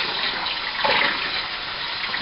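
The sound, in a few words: water mixed by hand to rinse starch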